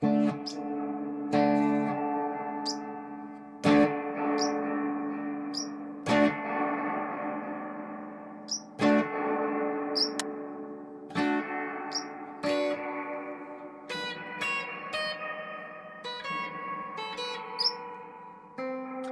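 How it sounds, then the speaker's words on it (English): Gamechanger Audio spring reverb pedal on its reflex setting, processing a series of struck guitar chords, each sharp attack followed by a long shimmering echoing decay, with high metallic chirps over the tails and no talking. "this next setting is the reflex setting, so I guess there's like a reflection kind of effect, like a delay of sorts"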